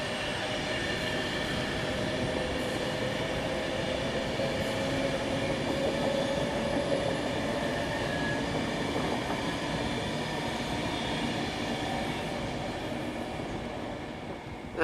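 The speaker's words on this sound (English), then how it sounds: "Approaching is a heavily delayed Avanti West Coast Voyager, going from Chester to London Euston" An Avanti West Coast Voyager diesel train, heavily delayed on its run from Chester to London Euston, rolls steadily past at close range, a sustained rumble with faint rail clatter holding level throughout.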